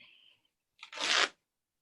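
Fabric is torn in a craft workshop for wrapped creatures: one short, close, rough rip lasting about half a second, following a moment of quiet.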